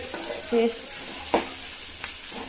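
Tomato and vegetables for upma are stirred in a sizzling pan, with a steady frying hiss under a few scraping spoon strokes against the metal.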